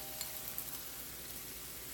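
Chicken and carrots fry quietly in a pan for a stir-fry, a soft, steady sizzle with a few faint clicks of stirring.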